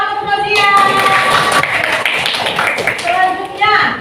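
A class of children claps together in a school classroom, a dense burst of hand claps lasting a few seconds, with a voice heard among them.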